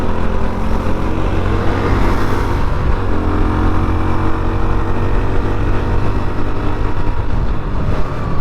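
A Yezdi Scrambler motorcycle rides off-road, its engine a loud, close, continuous drone with gentle rises and dips in revs throughout, and no voices over it.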